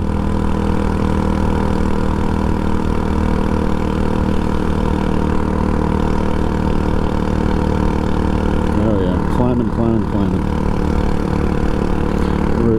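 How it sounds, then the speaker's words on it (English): Scooter engine labouring steadily uphill, a constant loud drone with low harmonics and no rise in pitch, near and continuous throughout. "the engine was straining and I'm not gaining any speed"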